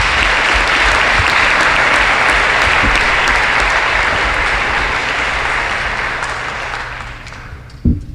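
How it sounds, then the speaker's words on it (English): A large audience at a school baccalaureate and prize-giving ceremony applauds the teachers, a loud, dense and steady wash of clapping that fades slightly near the end before a single sharp knock. "So I'd like to have a hand of applause for the teachers."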